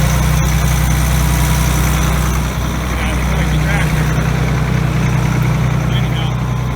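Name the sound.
tractor engine idling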